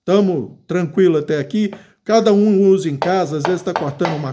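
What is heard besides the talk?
No distinct noise like a dog, phone or traffic.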